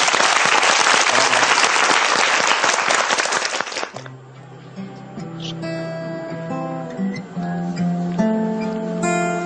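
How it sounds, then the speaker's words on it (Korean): Dense, loud audience applause fills the first four seconds, then stops abruptly as a performer begins playing guitar-based music. "박수로 한번 청해보겠습니다."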